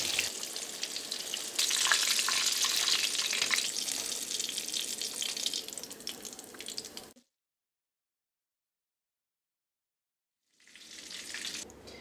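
Chicken kebab pieces deep-frying in hot oil over a medium flame give a loud, steady close sizzle that cuts off abruptly, falls silent for a few seconds, then resumes.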